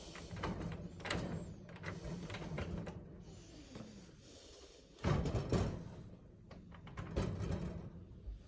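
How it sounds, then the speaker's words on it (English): Door at a house in Japan being unlocked and opened from a tiled entry area: clicks, rattles and a sliding bump near the five-second mark, with a few more knocks afterward, close by and fairly quiet. "I'll unlock this door."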